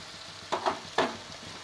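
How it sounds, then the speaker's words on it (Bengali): Haleem spice mixture fries in a pot with a soft continuous sizzle, and a few distinct stirring scrapes stand out close by during the short stretch. "দিয়ে এগুলো সম্পূর্ণ মিশিয়ে ভালোভাবে একটু ঢেকে আমি কষাবো 10 থেকে 15 মিনিট।"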